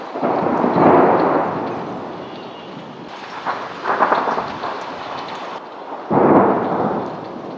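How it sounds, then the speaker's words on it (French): Thunder rolls through a thunderstorm in Medellín, Colombia: a loud, deep rumble swells and fades, then returns in heavier surges, with a sharp renewed burst near the end. "Là t'entends la foudre qui se broie en fait."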